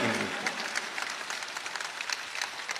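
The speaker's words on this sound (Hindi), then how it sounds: "पूरा पिंडाल तालियाँ बजा दे" An audience at a mushaira poetry gathering claps steadily and loudly for about three seconds, the dense broadband patter of many hands filling the venue with no voices standing out.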